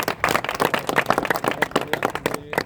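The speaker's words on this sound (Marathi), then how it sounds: "जोरदार टाळ्या वाजून आपण" Audience applause at a speech event, steady clapping from many hands lasting about two and a half seconds, fairly close and fading slightly at the end.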